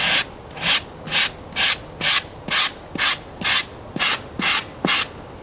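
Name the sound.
sanding spackle on styrofoam with 60 grit sandpaper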